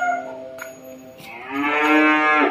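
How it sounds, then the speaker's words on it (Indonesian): A nine-month-old three-coloured Simmental calf in its pen moos twice: a long tonal call that fades, then a louder, rising second moo, close by with no talk. "sapi dengan 3 warna."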